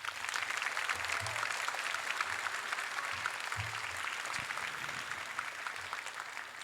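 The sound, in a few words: applause for award recipient Nayon Gill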